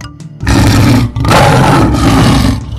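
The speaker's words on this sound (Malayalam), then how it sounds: "നരഭോജി കടുവ." Loud, harsh roaring from a man-eating tiger fills the moment in two sustained bursts separated by a short break, close and dominant with no voices.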